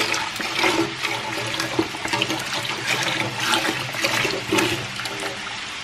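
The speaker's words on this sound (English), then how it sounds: "This is just pour the whole entire thing in your pot." A full 32-ounce carton of chicken broth pours into a cooking pot for red beans and rice, a continuous close splashing gush of liquid with no talking.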